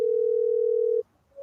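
A single steady telephone call tone plays over a speakerphone for about a second, loud and clear, then cuts off into near silence before another tone begins.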